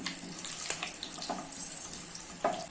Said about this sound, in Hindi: अभी इसमें खड़े मसाले ऐड कर लेना है और इसको 15 से 20 सेकंड तक फ्राई कर लेना है।